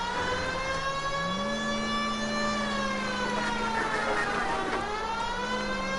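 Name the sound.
siren from a video game vehicle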